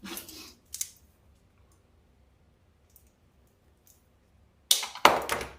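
Scissors snip through wire while a Christmas deco mesh wreath is trimmed, with a couple of sharp cuts at the start and two louder, closer snips near the end, separated by quiet.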